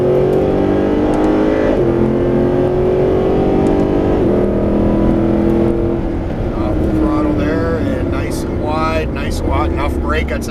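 A Mercedes SLS AMG engine roars as the car accelerates on a track, pitch rising through gears with a shift, under steady spoken coaching.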